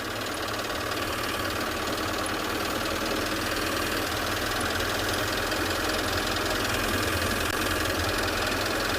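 Safari vehicle engine on an evening game drive, a loud steady drone with a knocking, idling rumble heard continuously up close, no talk.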